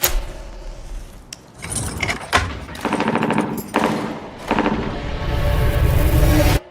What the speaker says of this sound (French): Vous avez entendu ces coups de feu?